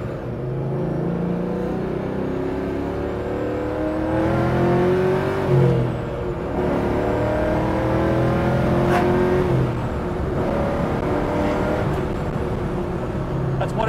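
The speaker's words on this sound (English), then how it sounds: "Beautiful sounding motor." A 1969 Chevrolet Camaro pro-touring restomod engine revs up and settles in steady, loud, close-up swells, its throttle rising and falling several times without pause.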